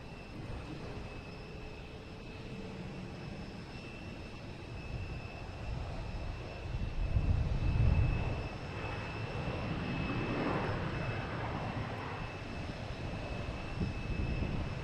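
An Airbus A319 approaching Boston Logan Airport produces a steady, moderately distant jet engine rumble and whine that swells slightly as it nears, with no talk in the clip.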